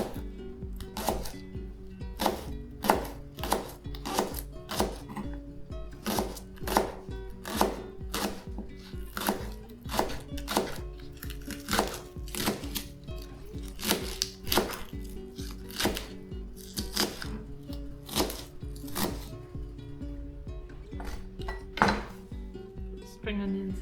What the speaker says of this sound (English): So we'll chop the spring onions.